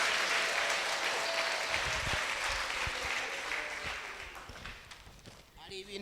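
A church congregation applauds, a broad wash of clapping that starts full and gradually fades, with a voice rising at the very end.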